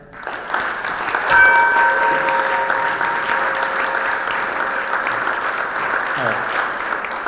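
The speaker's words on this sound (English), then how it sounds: "Can we give a round of applause for all of our flag bearers?" Audience applause for flag bearers at a Treaty of Paris anniversary ceremony, steady and fairly loud throughout, with a brief tonal whistle or feedback ringing early on and faint voices underneath.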